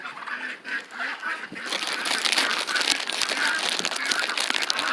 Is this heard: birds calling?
yes